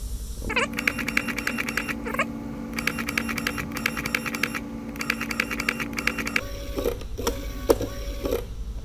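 A handheld inkjet printer prints onto clothing, making bursts of rapid, buzzy mechanical chatter that start and stop several times, with small clicks and clacks between passes, close and fairly loud, no talking.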